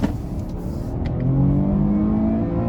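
A 2020 Cadillac XT6 Sport SUV with the Platinum Package accelerates hard, its engine note rising and building into a steady, fairly loud drone heard from inside the cabin, with no voices.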